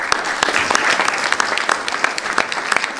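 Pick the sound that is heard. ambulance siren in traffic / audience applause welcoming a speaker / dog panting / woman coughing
audience applause welcoming a speaker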